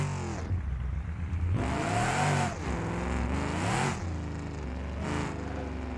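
A powerful, low-slung car in BeamNG.drive with all driving assists off, launching off a jump at around 60 mph, its engine roaring steadily and rising in pitch across repeated revving surges, loud and up close.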